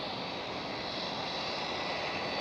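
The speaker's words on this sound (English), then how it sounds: "There's Icelandair 757." An Icelandair Boeing 757 at Amsterdam Schiphol airport gives a steady, loud broadband jet-engine roar that holds evenly and swells slightly toward the end, with no voices over it.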